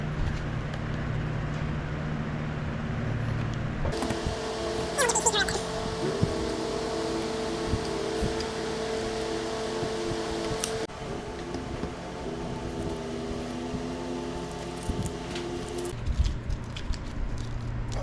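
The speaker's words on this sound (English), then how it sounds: "I'm gonna go ahead and mark out and drill the feet" A drill bores holes for the feet of a wooden long grain and end grain cutting board, a steady whining motor hum with a rising and falling pitch that runs for several seconds, up close and fairly loud.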